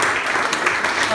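Church congregation clapping to acclaim the Lord at a French-speaking testimony service, a brief dense burst of applause with voices mixed in.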